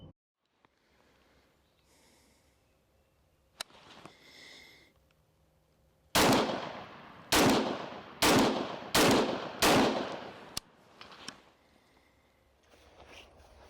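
A rifle fitted with a muzzle brake fires six sharp, loud shots at a quick, fairly even pace, each with a short blast tail, after a quiet stretch of faint handling noise.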